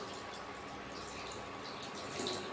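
Steady close splashing and running water as a child bathes a doll, a continuous wash of sound at even level with no voices.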